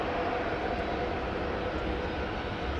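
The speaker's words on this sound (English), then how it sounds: "Got KLM flight 755 going to Quito over here." A KLM jet airliner at Amsterdam Schiphol Airport gives a steady, dense engine rumble and broad rushing noise, moderately loud and unbroken over the short stretch.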